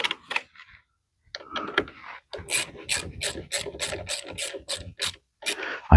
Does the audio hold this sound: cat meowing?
no